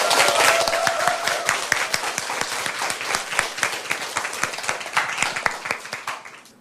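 Audience applause at a Korean literary talk on a novel, a full, dense burst of many hands clapping close and loud, thinning out toward the end.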